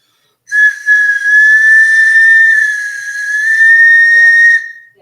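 A flute plays one long sustained tone for about four seconds, loud and clear with a bright breathy edge and slight pitch wavering, starting abruptly and fading out, alone with no talk.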